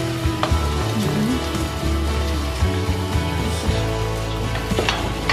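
Egg fried rice sizzles steadily in a hot pan while a utensil scrapes and stirs through it, with small crackles and knocks throughout, close and continuous.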